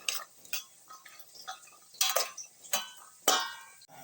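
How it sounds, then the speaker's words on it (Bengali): Chopped onion frying in a pan while being stirred, with irregular light clinks and scrapes of a spoon over a soft sizzle, close and moderately quiet. "পেঁয়াজ কুচিটা দিয়ে ভালোভাবে নেড়ে ছেড়ে যখন আলতো লাল হয়ে যাবে"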